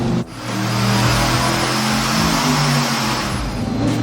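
A turbo engine runs on a dyno through a 3-inch exhaust with a straight-through Flow Monster muffler, a loud sustained roar that swells after a brief dip near the start and holds steady, with no talk.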